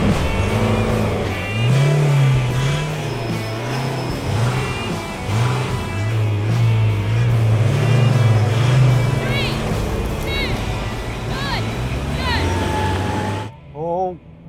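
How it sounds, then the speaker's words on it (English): Diesel pickup trucks (Mercedes X-Class, VW Amarok, Toyota Hilux, Ford Ranger, Mitsubishi L200) roar and rev together in a drag race, pitch climbing in repeated surges as they accelerate hard, with a brief drop-off near the end. "Now we're going to have a drag race"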